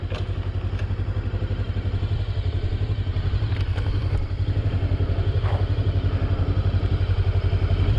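A Daytona Maverick 500 motorcycle engine runs steadily at a close, even idle, its throbbing pulse punctuated by a few faint clicks and clunks.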